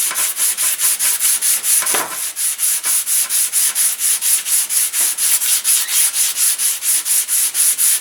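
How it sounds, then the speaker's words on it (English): Rhythmic back-and-forth rasp of sanding on a wooden model airplane fuselage, fast and steady strokes repeating close up for the whole stretch, no talking. "sanding this will take care of the rest of that"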